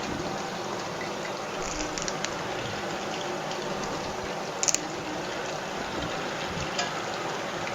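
Curry leaves sizzle and crackle in hot oil over frying chicken pakoda, a steady dense hiss of bubbling with a few sharper pops, close and continuous with no voices.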